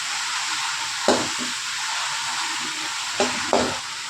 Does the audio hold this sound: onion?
yes